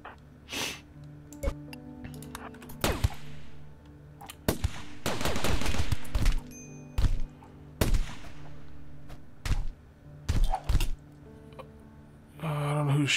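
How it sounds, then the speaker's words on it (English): Laser guns fire in a RimWorld firefight as sharp, separate bursts and cracks, some rapid and some spaced, over quieter stretches of rumble, loud and close with no voices. "Got some kind of laser gun, man."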